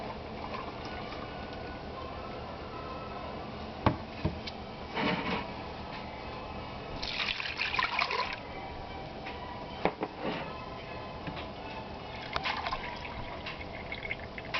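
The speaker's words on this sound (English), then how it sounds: "to that I'm going to add about 7 cups of milk" Milk pours onto sugar in a pot while rice pudding is being made at home, a soft continuous liquid rush with a few clinks and knocks from the container, fairly close and quiet.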